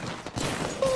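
Gunfire in Apex Legends, a continuous rattle of shots that dips briefly and then grows louder toward the end.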